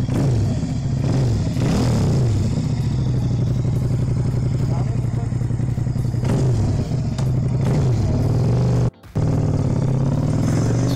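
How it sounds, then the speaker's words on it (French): A motorcycle engine runs steadily with rising and falling revs and some mechanical clatter, briefly cutting out near the end while people talk over it. "Mais c'est juste le bruit de la moto."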